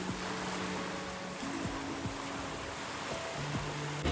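Sea near a beach with a fishing boat out on the water, steady broad surf and wind noise filling the scene, with faint tonal hums and no talk.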